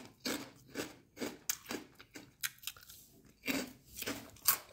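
Someone bites and chews Crisplife Eat Real lentil chips, with about eight close, crisp crunches in an uneven rhythm and short quiet gaps between them.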